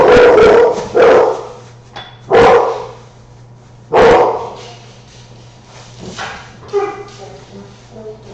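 Dogs bark in a home kitchen, several loud sharp barks spaced out over a few seconds, then quieter yips and whimpers, close by with a low hum underneath and no talking.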